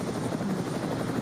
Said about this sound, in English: You can probably hear the helicopter rotors in the background.